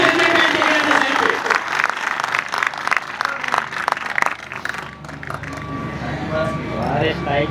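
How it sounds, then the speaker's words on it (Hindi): Workers at an outdoor safety-day meeting clap loudly together after a helmet demonstration, bursts of applause with talk and crowd noise throughout, thinning after about five seconds. "चलो जोरदार ताली बजाओ।"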